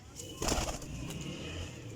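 Pigeons, including Teddy and Ferozpuri birds at a pigeon seller's, coo softly nearby, with a brief flutter and a low murmuring voice in the background.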